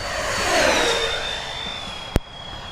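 A Freewing F-14 Tomcat RC model jet makes a fast pass, its ducted-fan whine rising and then gliding down in pitch as it sweeps by fairly close, ending with a sharp click.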